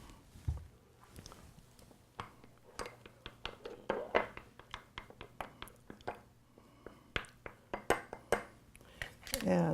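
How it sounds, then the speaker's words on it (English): Nuts, cinnamon and sugar are stirred in a bowl, with a series of light clinks and scrapes of a utensil against the dish in an irregular rhythm, fairly quiet and close. "And let's stir up our nuts and our cinnamon and our sugar."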